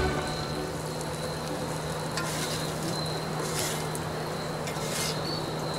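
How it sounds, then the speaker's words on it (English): Bacon is dropped into a hot pan while cooking spaghetti and beans off grid, giving a steady, dense sizzle with faint crackles throughout, near and loud, with no talk. "take the bacon, drop it in"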